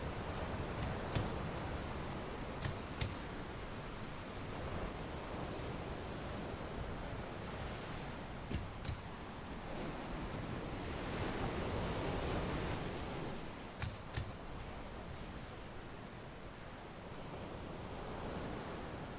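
Continuous sea surf ambience from a video game, steady rushing waves with occasional faint clicks scattered through, no voices present.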